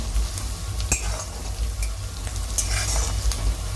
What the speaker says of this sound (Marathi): कांदा असा चांगला लालसर फ्राय करायचा लाल होईपर्यंत भाजायचा